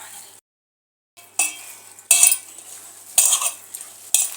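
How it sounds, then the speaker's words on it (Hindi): Ingredients for Afghani malai seekh kabab being mixed by hand in a bowl, giving several bursts of stirring and clinking with short pauses between them, close and fairly loud, with no talking. "इस तरह से डाल लीजिएगा और अच्छे से सब चीज़ें मिक्स कर ले।"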